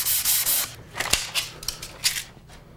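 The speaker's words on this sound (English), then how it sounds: "The last sanding is with 180 grit garnet paper" Wood being hand sanded along the grain with 180 grit garnet paper, a run of close, raspy back-and-forth strokes in an uneven rhythm, each swipe a brief hissing scrape with short pauses between.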